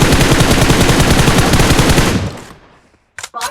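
Rapid automatic gunfire from a video game rattles loud and dense for about two seconds, then cuts off and fades, followed by a couple of short sharp bursts near the end.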